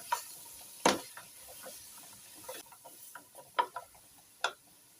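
Leek, onion and butternut are stirred in a pot for butternut soup, giving faint, scattered scraping and clinking strokes at an uneven pace in a quiet room.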